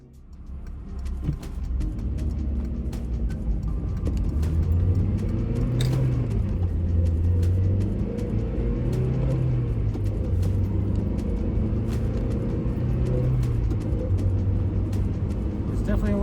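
A Mazda Miata's engine drones steadily from inside the car during a driving lap, its pitch rising and falling through gear changes, with a continuous low rumble throughout.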